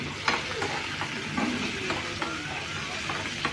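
Onions and cumin sautéing in hot oil for a Tamil-style paneer butter masala, with a steady low sizzle and soft scraping stirs throughout, fairly close, no talking.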